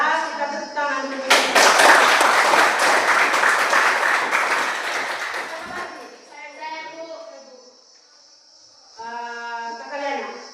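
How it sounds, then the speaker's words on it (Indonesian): Classroom audience clapping hands in a burst of about four seconds that fades out, with voices talking before and after. "Kita tepuk tangan dulu."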